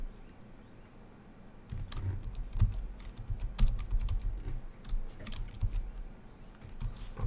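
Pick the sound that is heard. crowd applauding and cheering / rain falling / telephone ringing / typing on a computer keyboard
typing on a computer keyboard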